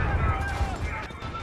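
Gunfire and blast rumble in a Call of Duty Modern Warfare battle, a dense burst of shots over a low boom, brief and fairly loud.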